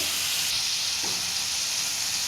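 Tomato and salt fry in a pan for chicken keema and pea ghugni, giving a steady, close, loud sizzle that hisses evenly throughout with no talking.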